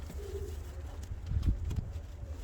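Fancy and costume pigeons coo softly in a low, murmuring rumble, a few brief coos rising over a steady background hum.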